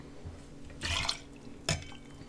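An ounce of lime juice poured into a mocktail glass, a short liquid splash followed by a second brief pour, faint and close against a low room hum.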